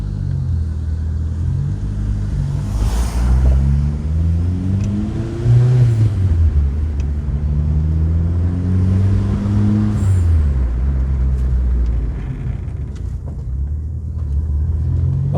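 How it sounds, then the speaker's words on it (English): A 1988 Ford Escort drives up a road on a short test run, its engine revving and rumbling steadily with rising and falling pitch as it accelerates, loud and close throughout with no talk. "I'm going to give it a quick test drive and make sure I don't crash into a wall"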